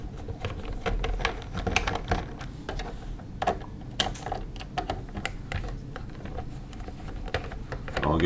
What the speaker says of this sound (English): Now it's time to take all the screws out.